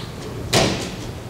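Doors open with one dull thud and rattle in a hot, crowded conference room, fading into murmuring background noise.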